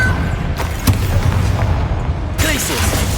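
A Confringo fire spell blasting in the game Hogwarts Legacy: a dense, loud rumbling boom with crackling debris, close and sustained, with a short burst of voices over the explosion near the end.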